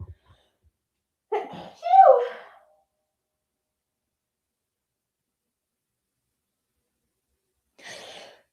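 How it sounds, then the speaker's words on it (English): One sneeze from a woman, close and abrupt with a quick intake beforehand, then silence and a faint breath near the end. "Okay, I sneezed."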